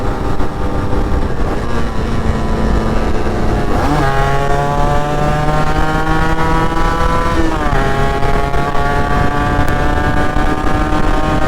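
A Yamaha RXZ two-stroke motorcycle with an expansion chamber exhaust cruises at around 80 on the Mysore road, its buzzing engine note loud and steady, with rising pitch sweeps as the throttle shifts, heard alone and close.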